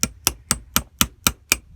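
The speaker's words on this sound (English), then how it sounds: "now we're going to take a little punch, put it in here, short ball peen hammer" A short ball peen hammer strikes a pin punch to drive a pin out of a vintage ETF Ltd wrench from Canada: eight sharp, loud metallic taps in a steady, even rhythm, close up, with no speech.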